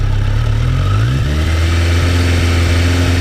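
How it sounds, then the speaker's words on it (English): A 2015 Kawasaki Versys 1000LT motorcycle engine revs up from idle, the pitch climbing smoothly and then holding at a steady high drone, loud and close with no talking. "I'm gonna stand right here, and I'm not gonna rev it up too high"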